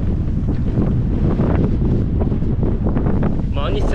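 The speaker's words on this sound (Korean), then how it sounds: "와, 오늘 바람 매섭네." Strong headwind roars steadily across the microphone while cycling off-road on a hot day in Spain on the way to Zaragoza, a dense, unbroken rumble of wind throughout.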